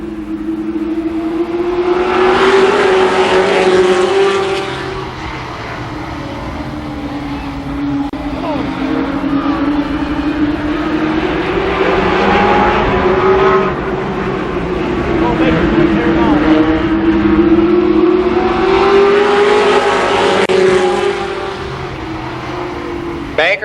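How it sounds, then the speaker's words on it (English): Limited Sportsman race cars at Columbus Motor Speedway run a short heat race, with engines droning steadily and rising and falling as the pack circles. Announcer talk sits over the engines throughout. "8 laps for the second Limited Sportsman Heat Race."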